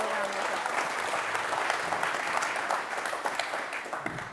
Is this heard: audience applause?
yes